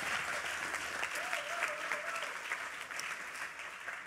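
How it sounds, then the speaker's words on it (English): An audience applauds steadily in a dense, continuous wash of clapping that holds at a constant level throughout, with a faint tonal whistle or cheer rising briefly above it. "Round of applause again, please, ladies and gents."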